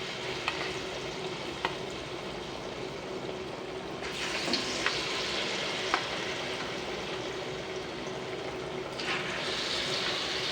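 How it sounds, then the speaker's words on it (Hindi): Stuffed bottle gourd finger fries sizzle steadily in hot oil, with a constant crackling hiss and a few faint clinks as pieces are added one by one. "अब हम इनको फ्राई करना स्टार्ट करेंगे।"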